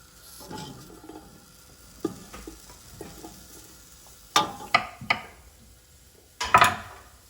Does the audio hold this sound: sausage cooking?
yes